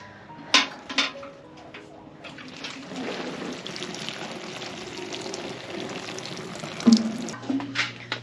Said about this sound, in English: I'm going to water everything real quick